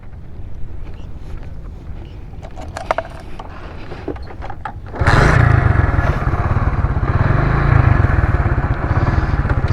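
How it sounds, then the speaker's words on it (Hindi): Motorcycle engine catches at about the five-second mark and settles into a loud, steady running rumble, with wind buffeting and rustling before it; out on the Malir Expressway route from Quaidabad to Korangi. "अभी मोटरसाइकिल भी स्टार्ट करूँगा"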